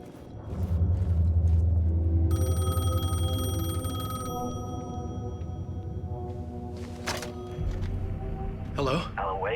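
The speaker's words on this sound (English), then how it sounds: "The payphone was ringing." A payphone rings in Alan Wake 2, a bright electronic trill sounding over a deep low rumble, followed by scattered knocks and rustles.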